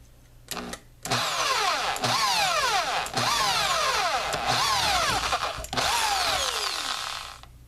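A power drill fitted with a 13/64 bit spins up in repeated bursts, its motor whining up and down in pitch in a steady rhythm of about six pulses, close and loud.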